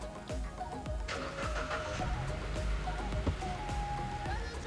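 A 2014 Kia Ceed with a 1.6 petrol engine, also set up for gas, cranks with a rapid run of clicks and then settles into a steady, fairly quiet idle hum.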